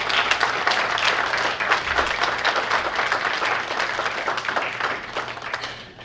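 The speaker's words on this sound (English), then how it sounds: "So a round of applause to the family." An audience of nursing graduates and guests at a pinning ceremony applauds families with full, sustained clapping that fades slightly at the end.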